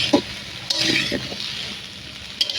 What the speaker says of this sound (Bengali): এবার আমি এটাকে ভালো করে ভেজে নেবো।